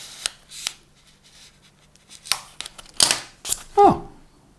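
Scissors or a blade cutting along drawn lines on miniature building material, several short sharp snips and scrapes spaced irregularly, close and crisp, with a brief voice-like sound near the end.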